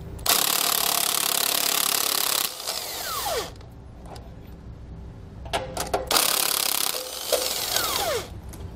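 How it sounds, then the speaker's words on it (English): A power tool with a 22 mm socket runs off the U-bolt nuts holding leaf springs on a 2017 Grand Design Reflection trailer, in two long, loud rattling bursts with a quieter workshop pause between and whining spin-downs. "take a 22 millimeter socket and we're going to remove all the nuts on our U-bolts that hold our leaf springs on"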